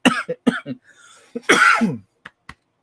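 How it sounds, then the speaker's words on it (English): Several rough coughs in quick bursts, close and loud, followed by a longer throaty cough and a few faint clicks. "Sorry for the coughing."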